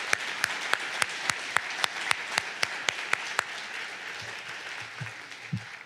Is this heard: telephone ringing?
no